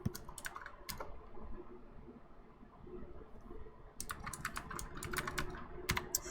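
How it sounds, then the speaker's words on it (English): Quick bursts of typing on a computer keyboard, close and quiet, with rapid clicking clusters separated by a pause of near silence. "So, you might hear me typing."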